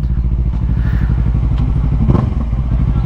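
A Yamaha MT-03 motorcycle engine runs close by with a steady, throbbing mid-pitched note, a brief clattering rise near the end, and no talking over it.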